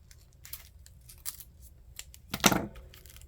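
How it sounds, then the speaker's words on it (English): Scissors snipping through quilting fabric for a pieced cover, a few soft crisp cuts with one louder, sharper snip near the end, close and quiet with no talking. "I'm going to use my scissors to come in here."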